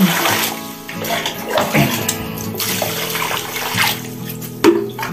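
Water pours and splashes continuously nearby, a steady gushing stream with small surges, as water is tipped out to rinse ammonia-smelling cat litter.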